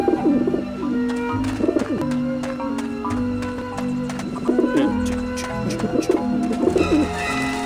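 In the video game Grim Fandango, pigeons at a nest coo repeatedly in warbling, throaty bursts. The bursts recur every second or two over a continuous musical backdrop and sound close and fairly loud.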